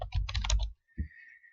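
Quick, close burst of keystrokes on a computer keyboard while entering text into a web browser, followed by a single soft thump and then a faint, steady high tone, with no voices.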